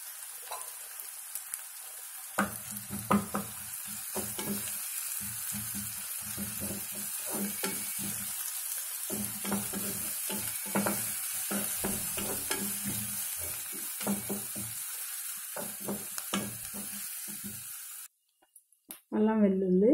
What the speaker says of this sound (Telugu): అల్లం వెల్లుల్లి వేగింది కదా